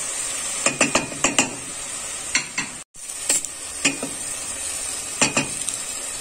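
Garlic sizzles steadily in a pan for a chicken stew, broken by repeated scraping strokes of a spoon stirring it, a brief dropout midway, then more stirring over the constant close frying hiss.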